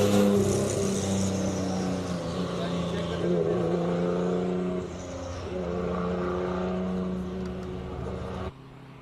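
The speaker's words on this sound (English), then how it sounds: "Just listen to these cars launch off the line." A classic Ford Mustang Shelby GT350 launches off the line at a hill climb, its engine a steady loud drone that drops near the middle and cuts off sharply at the end, with a commentator talking over it.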